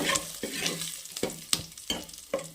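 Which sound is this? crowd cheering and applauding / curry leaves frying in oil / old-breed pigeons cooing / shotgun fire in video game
curry leaves frying in oil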